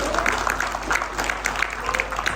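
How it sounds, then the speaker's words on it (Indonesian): Church congregation at a GBI worship service clapping together, a dense, steady patter of many hands lasting a couple of seconds, moderately loud and filling the room, with faint voices mixed in. "Kok nggak tepuk tangan sih?"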